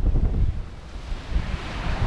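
Strong wind buffets the microphone at a beach on Spain's Almería coast near Roquetas de Mar, a loud, gusty low roar with surf-like washes and no talk.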